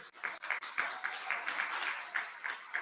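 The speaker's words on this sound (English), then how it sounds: "Give them a round of applause again." Town hall audience members clap in a soft, somewhat uneven round of applause, the patter rising and falling in small bursts, faint and distant-sounding in a large room.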